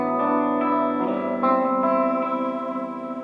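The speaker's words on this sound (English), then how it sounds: "the clean chordal vamp thing sounds like this, big spacious chords." Clean electric guitar chords through EMG active pickups ring out one after another, sustained and spacious with a wash of reverb.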